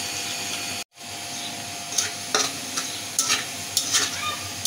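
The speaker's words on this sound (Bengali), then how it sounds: "আমি পেঁয়াজটা লাল লাল করে ভেজে নেব।" Onion frying in a pan until reddish, a soft continuous sizzle broken by several scraping stirs of a spoon against the pan.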